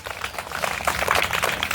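Children in a classroom clap together after a classmate playing the planet Mercury finishes a school solar system presentation; dense, steady applause runs throughout without talk.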